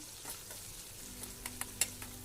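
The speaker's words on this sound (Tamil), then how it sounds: "ஒரு பத்து சின்ன வெங்காயம் கட் பண்ணி போட்டுக்கலாம் வெங்காயம் நல்லா வதங்கட்டும்" Ten chopped small onions sauté in a pan with ginger and garlic while fat is fried, giving a soft, steady sizzle with light stirring clicks and scrapes building toward the end.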